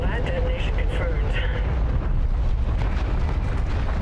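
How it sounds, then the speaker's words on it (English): Big explosion in the Call of Duty: Infinite Warfare campaign, a loud continuous rumbling roar with crackling debris, with talking over it throughout. "That's crazy, big explosion."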